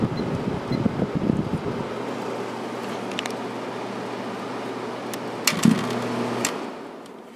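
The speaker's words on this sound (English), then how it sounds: "I got the heater running now" A 1994 White Westinghouse 5,200 BTU air conditioner runs its heater, giving a steady airy fan whoosh over a low, constant hum, with a soft clunk near the end.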